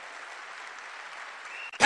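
An audience at a business seminar claps in a soft, even spread of applause, fairly distant and steady, cut off abruptly by a loud burst at the very end.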